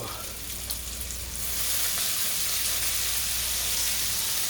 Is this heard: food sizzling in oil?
yes